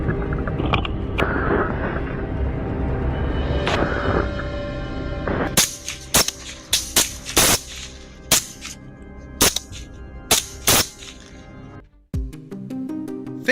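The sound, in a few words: rifle fired rapidly in a barrage at wild boar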